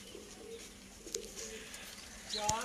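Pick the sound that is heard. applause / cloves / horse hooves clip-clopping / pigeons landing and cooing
pigeons landing and cooing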